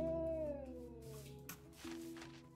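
A cat meows in the Minecraft Bedrock Spark Pets addon, a near, drawn-out tonal call that slides downward, followed by softer mewing tones over a steady hum.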